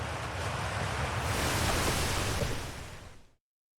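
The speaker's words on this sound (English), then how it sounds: "God, that water is really loud." Ocean surf and rushing water from the Outer Wilds game wash loudly and steadily as a broad, roaring noise, holding strong before cutting off abruptly near the end, with no voices.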